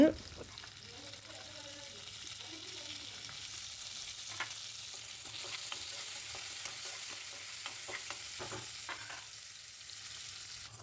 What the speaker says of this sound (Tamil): கூடவே கருவேப்பிலையும் தக்காளியுமே சேர்த்து அதையுமே நல்லா வதக்கி விட்டுருங்க